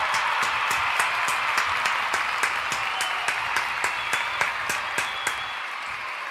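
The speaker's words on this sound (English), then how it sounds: "Another round of applause, Dizzle." Steady rhythmic clapping from a large wrestling arena crowd at a WWE SmackDown event, sharp evenly spaced claps over a continuous roar of crowd noise, no speech.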